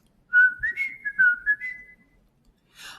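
A voice imitates a man whistling to himself as he walks away, giving a short, lilting whistled tune of several clear notes, close and alone, followed by a soft breathy sound.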